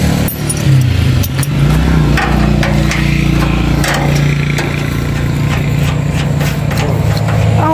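A palm kernel processing machine's engine runs loud and close in Nigeria, a steady throbbing drone with rattling metallic clatter and shifting load throughout.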